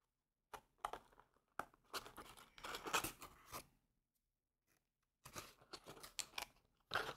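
A package being carefully opened in a quiet ASMR setting: close, crisp bursts of snipping, tearing and crinkling paper or plastic come in short clusters separated by silent pauses.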